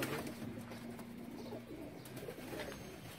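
Soft cooing of breeder pigeons close by, low repeated throaty calls over a steady background hum.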